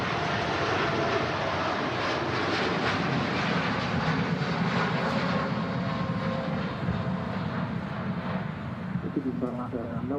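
A large 300-seat airliner at Manchester Airport gives off a loud, continuous engine roar that fills the whole stretch without a break, with a voice talking faintly underneath.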